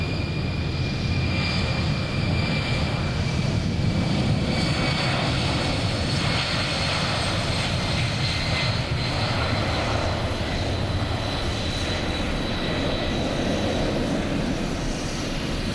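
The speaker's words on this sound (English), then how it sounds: "The noise that you're hearing is not the noise of the engine, it's the noise of the fans." Steady, broad roar of jet turbofan engines rumbling continuously at an air show demonstration, loud and unbroken, with a faint high whine on top.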